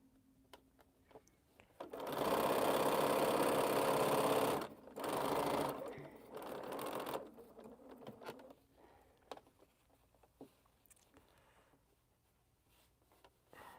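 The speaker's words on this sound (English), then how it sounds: "got my seam locked, and now we just sew" A sewing machine stitches a quilt seam in a few bursts, one long loud run followed by shorter stops and starts, then quieter handling afterward.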